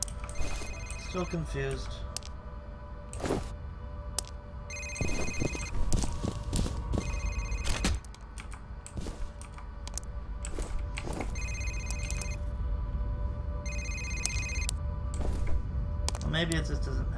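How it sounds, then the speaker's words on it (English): A telephone rings in the video game F.E.A.R., repeated electronic ring bursts at a moderate distance, heard among footsteps, game ambience and someone talking over it. "Here's the ringing phone."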